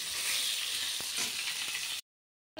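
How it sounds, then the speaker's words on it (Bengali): Bay leaf and cumin seeds sizzle in hot oil for a fish curry, a steady close crackle with a few small pops, then a brief silence before the sizzle returns. "এখানে তেজপাতা জিরে ফোড়ন দিয়েছি"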